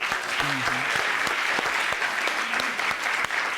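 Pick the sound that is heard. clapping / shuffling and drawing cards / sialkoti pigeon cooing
clapping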